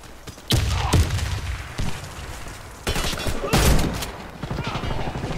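A grenade blast erupts amid a video game match with bomb rounds: several sharp, loud booms and bursts of gunfire in quick succession, close and forceful, with a muffled voice underneath.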